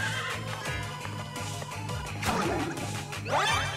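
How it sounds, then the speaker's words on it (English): A horse neighs in a loud, whinnying cry over busy background sound, with sharp crashes and thwacks around it, the whinny rising clearly toward the end. "Horse."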